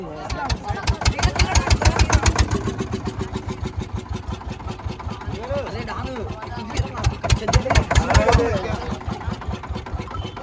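A boat engine heading for Antarvedi beach in Konaseema fires up with loud, rapid chugging pulses, drops back to a steadier idle, then revs again, while people talk nearby.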